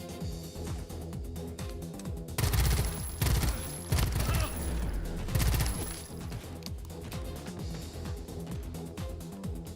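Twin rifles fire in a video game as a dense, rattling volley that swells in the middle of the stretch and then tapers into steady background shooting.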